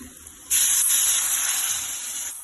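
Water poured into a pan of Maggi noodles with crushed tomato and masala, a steady rushing hiss that starts abruptly after a short quiet moment and continues evenly to the end.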